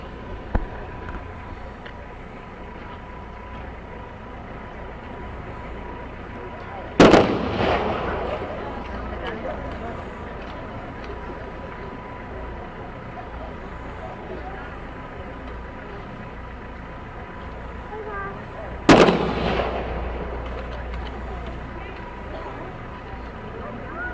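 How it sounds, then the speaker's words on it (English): Firing squad rifle volleys at a memorial parade: two sharp, loud cracks about twelve seconds apart, each with a brief outdoor echo, over steady crowd and traffic background. "Now we'll have the firing squad, and that'll be followed by taps."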